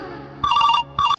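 Two bursts of an electronic mobile phone ringtone, close and clear, the second shorter than the first.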